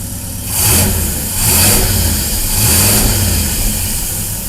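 A Cadillac engine with Aces fuel injection on its first start, running loud and close in a rough idle with three slow swelling revs.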